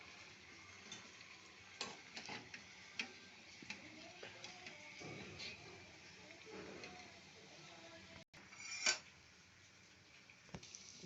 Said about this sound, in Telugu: కొబ్బరి పచ్చడికి తాలింపండి.